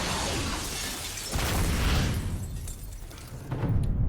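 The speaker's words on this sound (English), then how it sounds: "that wasn't an ordinary explosion" Explosion in a scene from the TV series Fringe: a loud, broadband blast that swells to a heavy rumble and then fades, with a second burst near the end and no speech over it.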